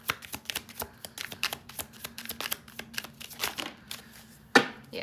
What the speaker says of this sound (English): I need to shuffle because felt like a lot